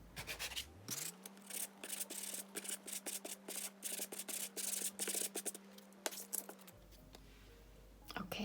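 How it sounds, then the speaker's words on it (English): Sanding block rubbed back and forth over a steampunk journal cover, a series of short dry scraping strokes, close and fairly quiet, with a steady low hum running beneath most of it. "let's see what happens if I sand that carefully"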